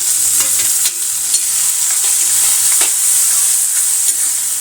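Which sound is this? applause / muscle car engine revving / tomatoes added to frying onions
tomatoes added to frying onions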